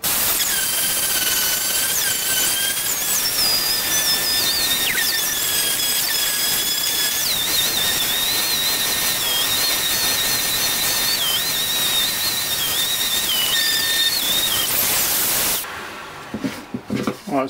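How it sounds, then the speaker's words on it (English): A power sander runs steadily on plywood, with a continuous high-pitched squealing whine over broad hiss, then cuts off abruptly near the end. "Now to the sanding."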